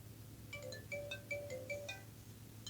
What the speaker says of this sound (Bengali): অলরেডি এই রিংটোনটি মোবাইলে ডাউনলোড হয়ে গিয়েছে। আমি আপনাদেরকে এখান থেকে শোনাচ্ছি।